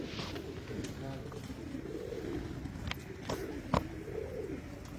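Pigeons cooing in a loft, low rolling coos repeating close by beneath a steady murmur of background noise, with a few sharp knocks and chirps mixed in.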